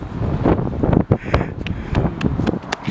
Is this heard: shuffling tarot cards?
no